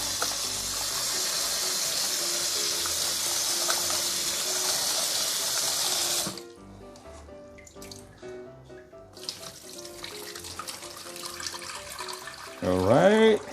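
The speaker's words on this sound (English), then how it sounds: "Let me quickly rinse it under water, cold water." Cold water runs steadily from a tap over noodles for several seconds, then cuts off, leaving quieter clinks and handling sounds before a brief loud burst of running water.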